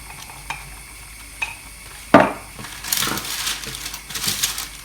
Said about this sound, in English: You're going to mix it up with that pastry brush.